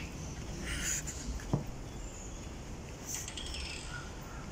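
Birds call in Hong Kong Park with faint, scattered chirps and tweets over a soft, steady outdoor background hum. No one speaks.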